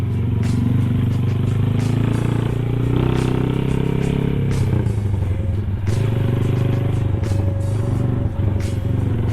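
A Honda GL motorcycle is ridden on a test ride over a road under repair, its engine droning steadily with shifts in pitch as it accelerates, accompanied by rattling clatter and wind noise close to the rider.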